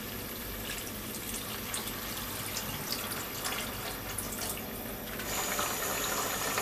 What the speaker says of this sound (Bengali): এই পর্যায়ে আমি একটু গরম পানি দিয়ে দিব।